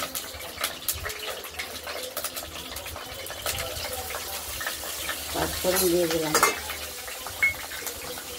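Dry red chillies and panch phoron spices sputter in hot oil in a pan, a soft continuous sizzle broken by scattered pops and small crackles.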